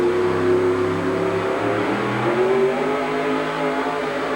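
Pulling truck competing at a 1987 USHRA truck pulling event in Tucson, Arizona: a loud engine roars and revs under load, with its pitch climbing and shifting as it strains down the track.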